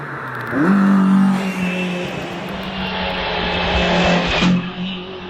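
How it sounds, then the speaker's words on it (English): A Citroen C2 racing car climbs the course at a British Championship hillclimb at Doune, its engine note loud and near, rising as it revs and holding a strained tone, then shifting as it passes with a brief change near the end. "Malcolm McDonald is at Citroen C2, the first of two C2s."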